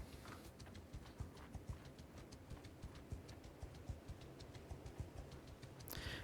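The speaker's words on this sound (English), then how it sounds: "there's another horse whinnying" Horses clip-clop through a village in the video game Mount & Blade II Bannerlord, a steady rhythm of faint hoof knocks with a short burst of louder noise near the end.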